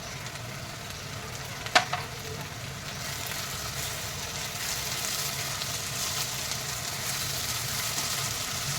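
Tomatoes, salt and turmeric added to ginger and garlic frying in a pan for a brain masala, a sharp knock followed by a continuous close sizzle that grows slightly louder.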